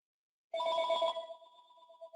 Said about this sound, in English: 1 second, let me stop this phone from ringing.